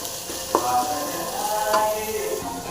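Grated beetroot frying in a pan with oil and neem leaves for beetroot chapati, a steady close sizzle with a couple of sharp clicks of stirring, no talking.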